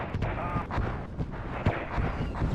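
Mortar barrage in a Star Wars mod of the WARNO strategy game, a dense rumble of overlapping blasts and booms, with repeated impacts pounding continuously throughout at steady loudness.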